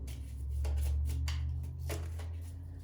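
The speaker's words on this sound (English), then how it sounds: "I'll shuffle so you guys can see" Tarot cards being shuffled by hand, a few soft papery riffles and slides over a steady low hum, close and quiet, with no talking.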